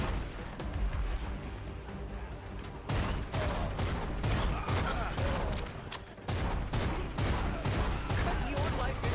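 Rapid handgun fire in the video game Bloodshed comes as dense bursts of loud, sharp shots, nearly continuous through most of the clip with only brief gaps.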